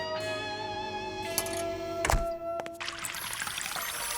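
Chilled bottled water pours into tapioca pudding in a cartoon kitchen, a steady close-up stream with a brief thunk partway through and no voices.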